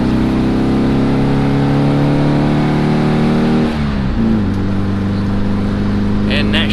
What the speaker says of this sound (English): Gotta love that flat 4 sound.